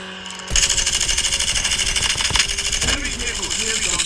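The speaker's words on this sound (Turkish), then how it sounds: "Araba." Vehicle engine in the Call of Duty video game, a steady mechanical drone running continuously after a sudden start, with gunfire-like bursts and voices talking over it.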